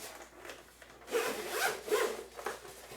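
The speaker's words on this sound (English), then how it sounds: "And it just zips right up." A zipper runs along a Nintendo Switch 2 carrying case, a close rasping zip in a few uneven pulls with no voices.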